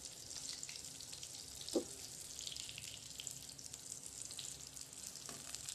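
Steady sizzling of pointed gourd, potato and eggs frying in hot oil, continuous and close, with a single brief clink partway through.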